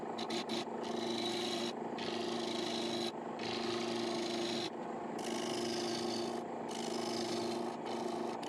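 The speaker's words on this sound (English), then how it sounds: "Shear scraping with a negative rake scraper," A negative rake scraper shear scrapes a natural edge spruce bowl spinning on a wood lathe, giving a close, steady rasping scrape in repeated passes with brief pauses between strokes.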